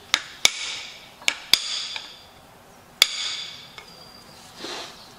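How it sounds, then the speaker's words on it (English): A hammer strikes an MPBS-12A striking screwdriver during a John Deere cylinder rebuild, giving six sharp metallic impacts at irregular intervals, loud and close with brief ringing after each hit. "It's just a big striking screwdriver. Works pretty good. We're gonna hit here."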